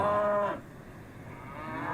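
Cows in The Simpsons Hit and Run video game moo loudly and close up. One long moo ends early, and a second begins to swell toward the end.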